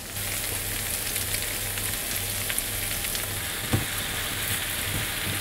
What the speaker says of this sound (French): on fait cuire les pommes dans la poêle pour faire évaporer leur eau